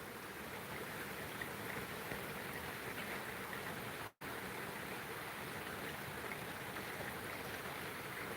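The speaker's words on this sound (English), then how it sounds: "I like just sitting out here in the rain, not doing shit." Steady outdoor rainfall, a dense even hiss of drops hitting surfaces close around, continuing without a break except for a split-second dropout midway; no voices.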